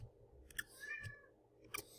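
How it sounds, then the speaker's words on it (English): Indoors, a house cat meows faintly and insistently, giving a couple of short, quiet cries separated by brief pauses, with no one speaking. "That's my cat, Max."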